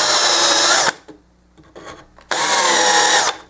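A small reamer or power tool works the tuner holes in the wooden headstock of a Kay 6100 acoustic guitar, giving two loud bursts of grinding with a quiet pause between them.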